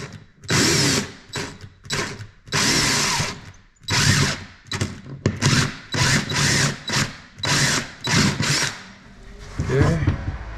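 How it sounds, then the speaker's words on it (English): A power drill drives into pilot holes while mounting a cargo box on a 2026 Can-Am HD11 Defender Limited, running in about a dozen short stop-start bursts of whirring, close and fairly loud. "line up your drill bit"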